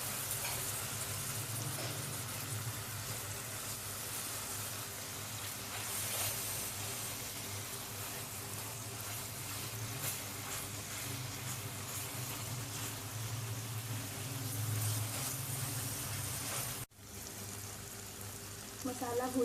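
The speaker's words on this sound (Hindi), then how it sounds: "इसमें नमक, कूटी हुई लाल मिर्च, हल्दी, सफ़ेद जीरे का पाउडर, खुश्क धनिया का पाउडर और कलवंजी ऐड करके भूनेंगे।" Salt, crushed red chili, turmeric, white cumin powder, dry coriander powder and nigella seeds frying in hot oil, a steady close sizzle running throughout with a brief cut near the end.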